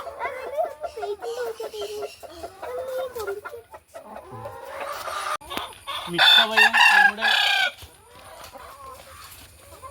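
Chickens in a backyard coop beside an egg fruit tree cluck and squawk repeatedly, with a loud burst of agitated calls partway through. A person speaks at the start.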